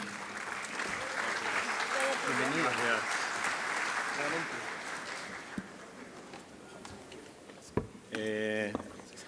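An audience at a national congress applauds to welcome a speaker from Spain's Instituto de Salud Carlos III, a full sustained round of clapping with voices murmuring through it, then fading to scattered handling noises.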